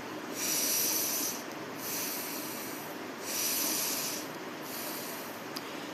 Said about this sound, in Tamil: இப்போ நீங்கள் மூச்சு பயிற்சி தொடர்ந்து செய்கிறீங்க, இது கபால்பாத்தி